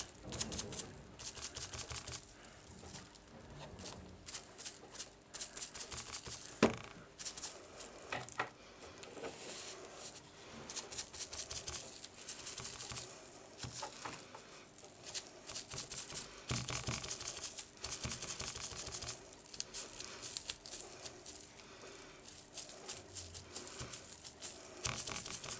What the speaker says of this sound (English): onto this saran wrap with the shimmer paint, and we're just going to dab it onto our card base